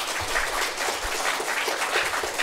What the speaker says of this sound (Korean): 이 박수를 치려면 확실하게 크게 치십시오.